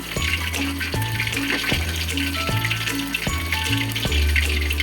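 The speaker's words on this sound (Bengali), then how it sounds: "আমি সবগুলো কড়াইতে দিয়ে দিলাম, আর কি কড়াইতে ভালোভাবে তেলটা গরম হতে হবে" Loitta fish pieces fry in hot oil in a wok, a steady crackling sizzle carrying on throughout, with a few brief clinks from cookware, and no talking.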